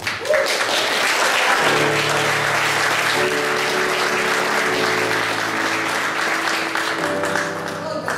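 A hall audience at a Riga gymnasium graduation ring ceremony claps continuously, loud and dense, with sustained musical tones playing softly beneath the applause.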